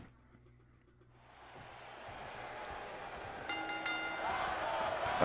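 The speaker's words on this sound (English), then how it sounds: "Crowd here is absolutely ready for this match." A WWE 2K19 arena crowd swells from a hush into a broad, continuous roar of cheering that grows louder over several seconds, with a few sharp clangs near the end.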